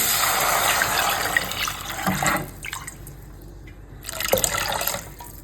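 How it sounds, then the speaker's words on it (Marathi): Drumstick (moringa) water poured into a pot of corn and mushroom soup, a loud close liquid rush and splash for about two seconds, a quieter lull, then a brief second pour. "तर इथे शेवग्याचं पाणी टाकलेलं आहे"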